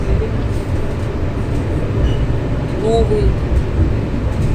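Interior of a large modern tram riding through Yekaterinburg, a steady low rolling rumble with faint squeals and rattles, someone speaking briefly over it.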